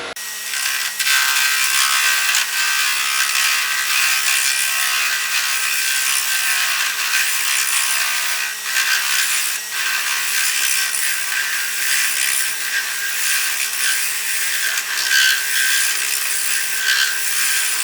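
A wood lathe spins a pencil holder blank at full speed with a loud, steady whir and faint hum, plus a constant rasping hiss of the wood, unchanged from start to finish.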